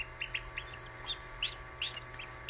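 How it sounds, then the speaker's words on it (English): A baby mallard duckling hatching in an incubator gives short, high peeping chirps, about eight in loose succession, fairly close but soft against a quiet hum. "This is a baby mallard duck that is hatching before you."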